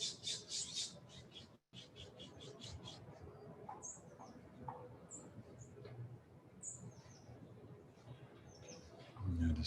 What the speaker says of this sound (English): invitation of sounds, birds, other sounds.